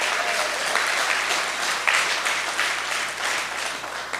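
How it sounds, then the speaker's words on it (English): Steady applause fills a room at an alumni dinner celebrating fifty years of friendship, a dense, even wash of many hands clapping continuously, moderately loud with no pauses. "A round of applause for both of them."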